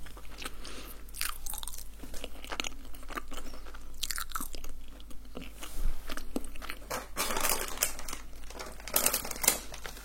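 Crunchy tacos bitten and chewed up close, with sharp crackling crunches in an irregular rhythm and soft chewing between bites, no talking.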